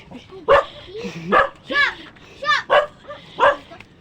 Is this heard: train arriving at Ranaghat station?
no